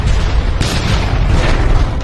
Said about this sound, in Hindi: पंखा जमीन से जा टकराया और एक भयानक विस्फोट हो गया।